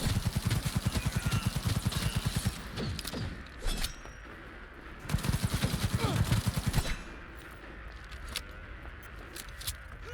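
Rapid automatic gunfire from the video game Cyberpunk 2077 erupts in two dense bursts, loud and close, with scattered single shots and thuds between them and faint game sounds after.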